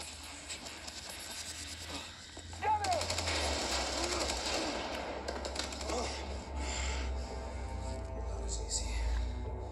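Gunfire from a video game played on a Steam Deck, bursts of rapid shots with louder blasts and a low rumble under them, continuing throughout with a person talking over it.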